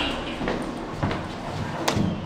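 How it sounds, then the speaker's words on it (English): Lift doors slide shut in a UK shopping centre lift, a soft rumbling close with a couple of thuds and a faint chime near the end. "Doors closing."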